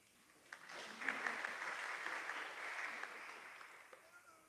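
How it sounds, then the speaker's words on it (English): Church congregation clapping at a Nativity of Mother Mary celebration in Nashik after a birthday song, a faint, even patter of applause that rises quickly, holds, and then fades away. "Clapping is an option."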